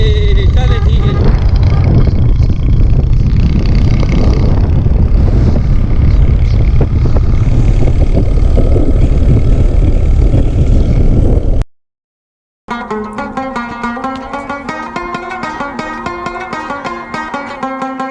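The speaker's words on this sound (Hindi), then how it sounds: "इनके साथ मोटरसाइकिल पे हम लोग आ रहे हैं जी।" A motorcycle ride near Derawar Fort, Bahawalpur: a loud, steady engine drone with heavy wind rush runs for about eleven seconds, then a brief silence gives way to music.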